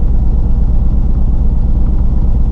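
A car engine in need of a tune-up idles steadily and loudly up close, a continuous low rumble with a slight shake and no talking.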